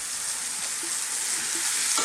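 Minced beef sizzles steadily in a hot pan over above-medium heat, a continuous bright crackle with a few soft stirring scrapes, close and even throughout.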